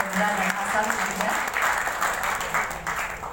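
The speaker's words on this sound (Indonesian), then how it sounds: "Kita berikan tepuk tangan kepada Hendra dan Ahsan juga" An audience at a badminton press conference honoring All England champions applauds in a steady, moderately loud wash of clapping, with a voice talking faintly underneath.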